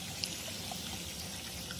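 Electrolyte in a failing car battery cell bubbling like boiling water, a faint, steady fizzing trickle heard up close with small scattered pops, no voices.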